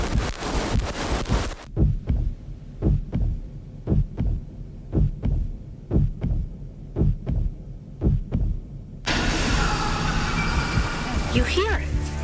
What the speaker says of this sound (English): You hear it. You hear a heartbeat.